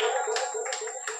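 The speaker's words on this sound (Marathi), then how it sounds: "जोरदार टाळ्या" Clapping for prize winners of a women's musical chairs contest, a steady dense patter of hands from a crowd, close and continuous throughout.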